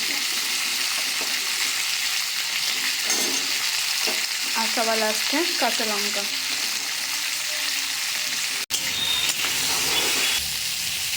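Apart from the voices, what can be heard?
mixed vegetables frying in a pan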